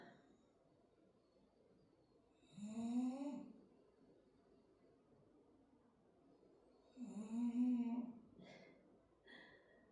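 A person snores twice during a slow yoga session, loud and drawn-out a few seconds apart, with quiet breathing between them and a short snort near the end.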